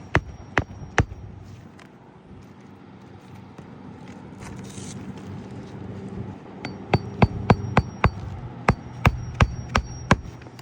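A nail is hammered into a gate during repair work outdoors on a hot day, sharp close metallic blows, a few at first, then a quicker regular series of strikes after a pause.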